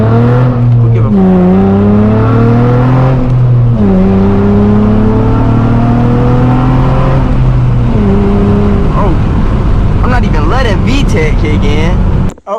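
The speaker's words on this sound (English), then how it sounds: "VTEC kick in" A tuned Honda Accord 3.5L V6 on 91+ fuel revs hard through repeated climbing gear pulls on a backroad, its engine note rising and dropping with each shift, loud and close, with a voice talking near the end.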